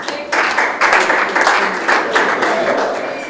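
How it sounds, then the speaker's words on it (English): Pageant audience clapping in a steady, loud burst of applause, many hands at once with slight swells, lasting a few seconds. "Don't stop clapping."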